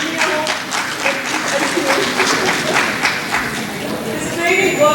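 Audience applause at a company's ninth anniversary event, a steady broadband wash of clapping that fills the full five seconds, mixed with a voice talking and some chatter over it.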